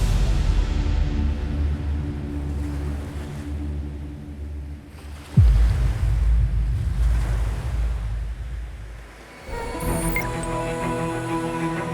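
Atlantic Ocean waves breaking along the coast with wind gusting past the microphone, the surf washing in broad surges that swell, fade and return, with no voices.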